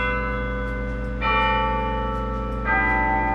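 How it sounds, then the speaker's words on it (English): Bell chimes ringing from the Coughlin Campanile, a university bell tower, with two struck tones layered over a long sustained ring, clear and resonant with no voices. "Originally, there were 18 chimes housed in the campanile that would ring out tunes night and day"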